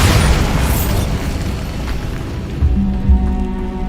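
Bombarda spell explosion in the video game Hogwarts Legacy, a loud, close boom with a bright burst at the start, followed by a rumbling, crackling decay and a second thump near the end.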